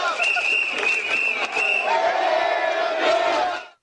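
Citizens in a Seoul public square cheering and chanting for the Korean national team after a World Cup match, a loud crowd with rhythmic shouted chants and scattered clapping, cutting off abruptly at the end.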